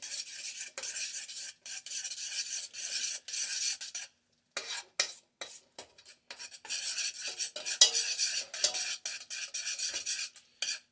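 Sauce being stirred in a pot to blend it, loosened with a splash of water: a steady scraping, rasping swirl of utensil against the pot, close and fairly loud, broken by a brief pause midway, with no talking.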